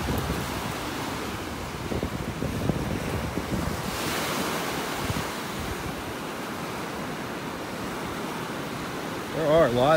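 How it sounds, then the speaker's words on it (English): Ocean surf rolling steadily onto a beach in North Naples, Florida, a continuous broad wash of breaking waves with gusty wind buffeting the microphone throughout. "Just because of all this wave action."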